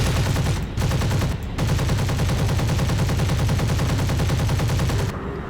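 Sustained, loud aircraft machine-gun fire from the Fw 190A5 German plane in the War Thunder video game, a rapid continuous stream of shots broken by two brief pauses and stopping near the end.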